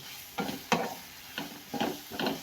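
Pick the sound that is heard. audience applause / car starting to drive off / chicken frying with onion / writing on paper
chicken frying with onion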